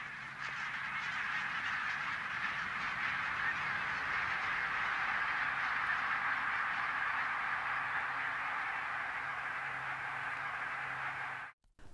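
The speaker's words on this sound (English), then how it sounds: "the geese start to leave their grazing fields and head back out to the estuary for the night" Barnacle geese call at the Solway Firth estuary at dusk, a dense, continuous chorus of honking from a large flock, steady and fairly loud throughout before a sudden cut near the end.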